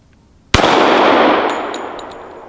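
A Glock 21 Gen 4 pistol in .45 ACP fires a single loud, sharp shot at a steel target, the report ringing out and decaying over a couple of seconds, followed by faint metallic pings.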